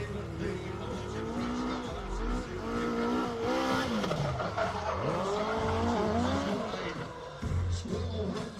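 Terry Grant's Elite car, powered by a 1200cc motorcycle engine, spins a 360 at a Bug Jam drag racing event, with a high revving engine wailing up and down and tires squealing, while an announcer talks over the crowd.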